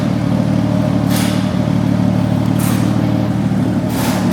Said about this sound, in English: Here's what they got going on the dyno, which this will probably be very loud